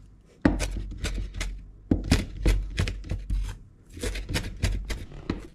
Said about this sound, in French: Là, je suis en train de couper tout petit.